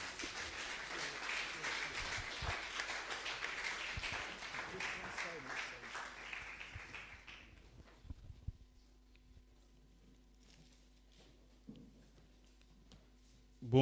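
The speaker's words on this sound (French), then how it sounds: "Est-ce qu'on peut acclamer le Seigneur?" A church congregation in Tangier claps and applauds to acclaim the Lord, a dense, fairly loud wave of hand claps that fades away after about seven seconds, leaving near silence with a few faint stray sounds.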